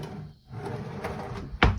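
A large, deep custom cabinet drawer in a shuttle bus conversion slides and ends in one sharp thump near the close, after quieter rustling and handling sounds.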